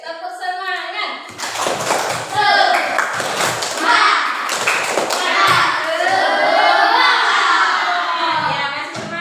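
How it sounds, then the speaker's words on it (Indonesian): A classroom of students does a rhythmic spirit clap, bursts of patterned hand claps mixed with children's shouts and the teacher's voice calling over them. "Ya, tepuk semangat."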